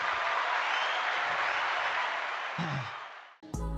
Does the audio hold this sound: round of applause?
yes